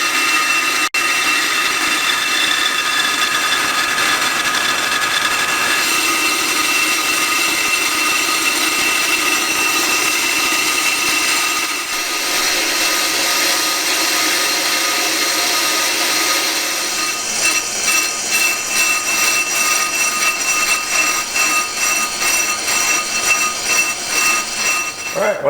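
A Pro Cut PFM 9.0 on-car brake lathe cuts a brake rotor, a continuous whining, grinding machine noise that holds steady and grows rougher and more pulsing toward the end.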